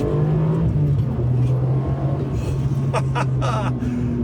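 A Ferrari 575M V12 engine revs hard at full throttle and climbs in pitch, a loud, sustained accelerating roar close by with a brief gasp-like breath partway through.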